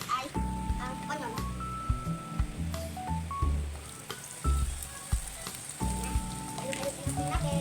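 Onion sizzles and crackles in a frying pan where corned beef is being cooked, with bursts of stirring and scraping, close by, while people talk over it.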